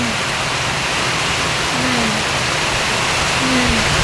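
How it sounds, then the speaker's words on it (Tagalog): Heavy rain pours down in a dense, steady hiss, loud and unbroken, with a couple of faint tonal squeaks in the background. "lakas ng ulan!"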